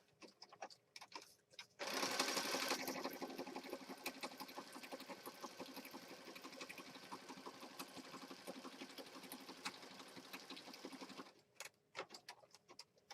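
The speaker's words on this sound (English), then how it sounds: "so we just stitched around there" A sewing machine stitches steadily around a mixed-media paper and fabric piece at a craft table, a continuous close run of about nine seconds that starts and stops abruptly with quiet room noise on either side.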